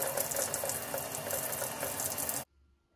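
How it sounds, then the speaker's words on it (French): Water pours steadily onto a Hoya houseplant in a continuous close splash, then cuts off abruptly, leaving near silence for the last half second. "Ouais, on va l'arroser."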